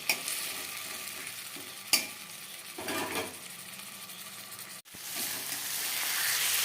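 Spices sautéing in a pan with salt, turmeric, cumin, coriander and chili powder, a continuous sizzle broken by stirring scrapes and a couple of sharp utensil knocks, with the frying growing louder toward the end.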